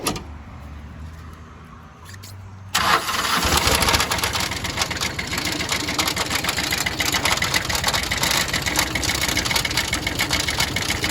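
A faulty Kubota L3000DT tractor engine starts up and chugs loudly and unevenly, with rattling, knocking irregularities throughout.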